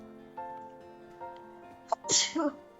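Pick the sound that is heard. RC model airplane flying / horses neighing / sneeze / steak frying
sneeze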